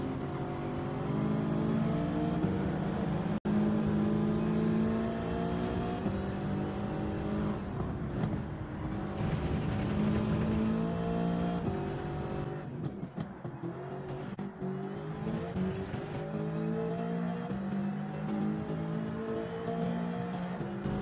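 A race car in Gran Turismo 7 at Deep Forest Raceway, its engine note climbing and dropping steadily through gear changes for an extended stretch of continuous high-revving driving, with no talk over it.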